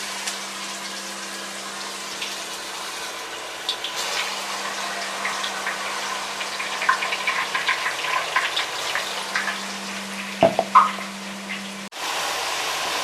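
Cumin, mustard seeds and ginger-garlic paste fry in leftover deep-frying oil for a Telangana fish pickle, making a steady close sizzle with scattered crackles and pops and a faint electrical hum, with no voices.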